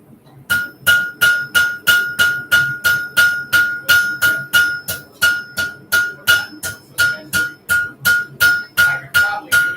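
A hammer forges a railroad spike into a knife shape, striking metal in a steady run of about two dozen close, loud, ringing blows with brief gaps, and no talking.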